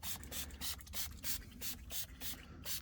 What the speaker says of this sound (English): Spray it all over everything.